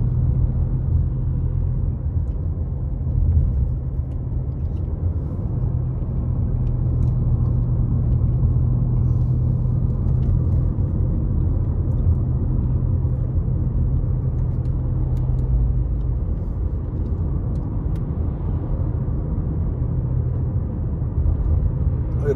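A car rolls slowly along a quiet mountain road near Big Bear Lake, California, giving a steady, low engine and road rumble that continues without a break throughout.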